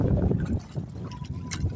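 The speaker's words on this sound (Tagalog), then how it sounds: "lumakas na yung hangin" Wind blowing over open water on a fishing trip, picking up strength, a steady rushing buffet close to the microphone with faint lapping and splashing underneath.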